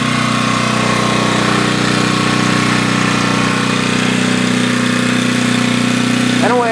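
A newly bought small engine runs after a choke start, a loud, steady idling drone with a buzzing mechanical hum throughout, close by and alone.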